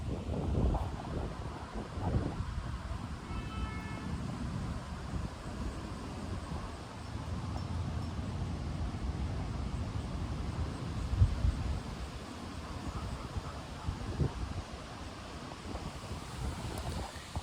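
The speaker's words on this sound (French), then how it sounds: "sentir le vent, la brise" Wind rushes steadily across the microphone outdoors, a low continuous roar with gentle gusts and no talking.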